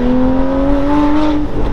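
A Porsche Cayman GT4 fitted with a full IPE exhaust revs hard on a circuit, its engine note climbing steadily in pitch as a loud, close, sustained howl before easing off.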